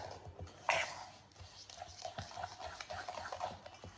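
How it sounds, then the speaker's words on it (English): A fork works brownie ingredients and sugar together in a bowl, with quiet, rapid scraping and tapping strokes that stay faint and close. "So I'm going to start mixing it with a fork, because if I use a hand whisk straight away, the sugar is going to go everywhere."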